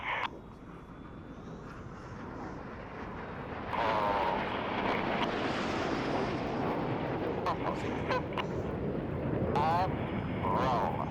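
Red Arrows RAF jets flying the Python formation overhead, a broad continuous roar that swells louder partway through, with a commentator talking over it throughout.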